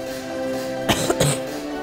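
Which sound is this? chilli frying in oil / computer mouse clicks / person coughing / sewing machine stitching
person coughing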